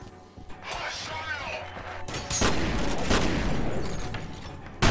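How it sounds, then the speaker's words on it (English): Shotgun blasts and gunfire in the first-person shooter game F.E.A.R. during close-quarters combat, loud crashing bursts layered over game music and effects. "I'm gonna shoot this motherfucker with a shotgun."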